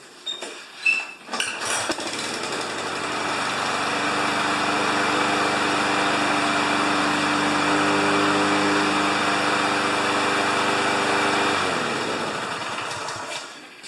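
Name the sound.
small gasoline engine starting and running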